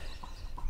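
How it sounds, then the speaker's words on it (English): Hoofbeats of a bred racehorse on a farm, two dull clip-clop strikes in under a second, fairly close, with no voices. "that's not the hoofs of a shire horse, that's a hoofs of a racehorse."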